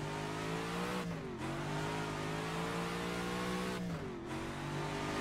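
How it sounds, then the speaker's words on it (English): A car engine in the racing video game rFactor 2 drones at high revs, the pitch dipping and rising twice as the clutch slips and catches in second gear, loud and continuous with no talk. "You could hear that clutch slipping in second."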